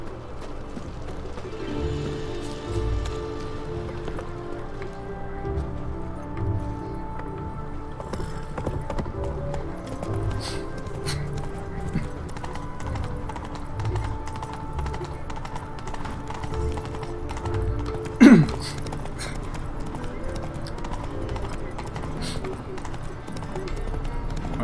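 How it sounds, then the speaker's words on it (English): Roach, the horse in The Witcher 3, gallops with a steady, continuous clip-clop of hooves over game ambience, close and even throughout, with one sharp thud near the end. "算了，我还是骑马好了。"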